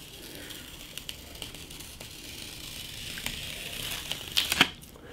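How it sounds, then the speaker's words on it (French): Quiet crinkling and faint rustles build into a short, sharp crackling rip near the end as small adhesive tape is peeled off a drawing up close. "J'ôte mon petit scotch."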